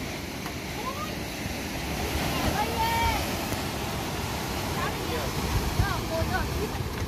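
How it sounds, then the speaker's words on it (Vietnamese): Strong sea waves surge and wash continuously on a rainy, windy seashore, with wind buffeting the microphone and faint voices and scattered chirps in the background. "Hôm nay thời tiết coi là sóng gớm này"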